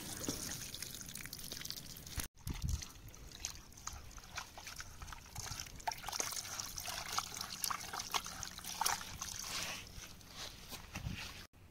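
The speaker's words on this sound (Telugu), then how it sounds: "ఫస్ట్ అయితే ముక్కలను బాగా కడగాలి, చాలా మంచిగా కడిగేసి" Chicken pieces washed in water for pakodi cooked outdoors under a tree, a soft continuous trickling and sloshing with faint splashes, quiet and close, with no voice heard.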